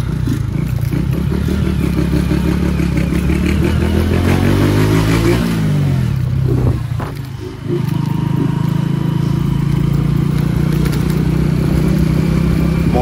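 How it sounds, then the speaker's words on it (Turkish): A modified motorcycle, a lowered Honda CG, rides over rough, broken road, its engine droning steadily and close for most of the time, with clatter and a brief pitch sweep as revs change midway. "Motor güzel gidiyor."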